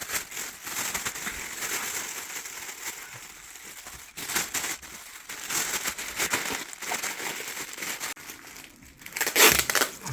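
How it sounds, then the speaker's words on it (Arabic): Plastic bags being handled and sealed one inside another around salted fish, a close, steady run of crinkling and crumpling with sharper crackly bursts near the end. "حط بقى الكيس ده جوه كيس جوه كيس جوه كيس ونقفل كويس"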